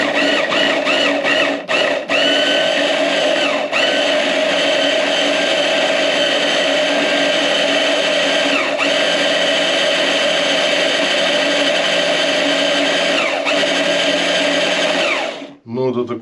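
Kitchen blender whirring steadily as it grinds ingredients for Ukrainian Chernihiv-style halushki with meat, a loud continuous motor drone with a few brief stops near the start and an abrupt cutoff at the end.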